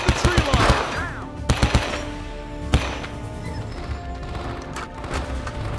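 Bursts of machine gun fire in the Vietnam War shooter Men of Valor, a rapid loud volley up front followed by scattered shots and booms, with shouted voices mixed into the battle noise.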